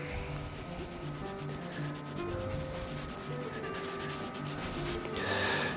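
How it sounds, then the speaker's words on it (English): Coarse grit sandpaper scrubs the base of a 28mm boar bristle shaving brush knot, a steady close rasping rub with quick back-and-forth strokes that continues throughout. "I'll just give that base of that knot a little scrub up. With a bit of coarse grit."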